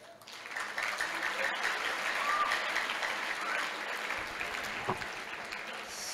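Audience applause at a mosque inauguration at an Islamic boarding school, a sustained, moderately distant clapping that fills the room evenly for several seconds.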